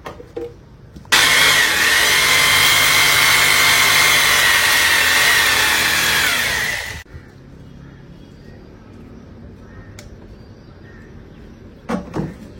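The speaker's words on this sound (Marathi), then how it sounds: "चला आपण ड्रिल लावूया" A power drill bores into a wall to mount a water fogger machine beside a water pipe at home, one loud, steady whining burst of about six seconds that then cuts off, with faint clicks afterward.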